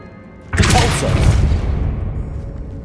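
A Depulso spell cast in Hogwarts Legacy lands as a single heavy whooshing boom that hits suddenly after a quiet moment, then rumbles and slowly fades over a couple of seconds.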